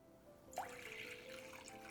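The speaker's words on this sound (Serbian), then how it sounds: "Ovdje imam 100 ml mlake vode, sipat ćemo u vanglicu" About 100 ml of lukewarm water being poured into a bowl, a brief, faint splash followed by a soft trickling stream that lasts just over a second in a quiet kitchen.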